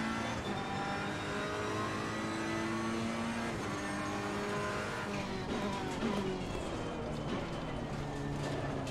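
A race car in the racing game Assetto Corsa Competizione (ACC) downshifting and braking, with the engine note stepping down through gears and some tire squeal under a steady, loud roar.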